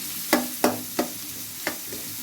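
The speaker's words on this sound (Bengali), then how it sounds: "এটা একটু ভাজা ভাজা হোক" Onion frying in oil in a pan, heard as four sharp scraping stir strokes at steady intervals over a soft continuous sizzle, close and moderately quiet with no talking.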